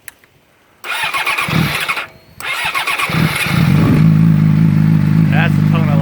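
A 2008 Yamaha R6 motorcycle with its muffler removed cranks and starts after a couple of tries, then settles into a loud, raspy, steady idle close by, with people talking briefly underneath.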